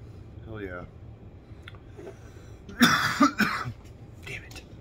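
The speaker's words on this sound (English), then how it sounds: "I'm trying my best not to fucking cough." Two sharp coughs close to the mic, following a few faint murmured voices in a quiet room.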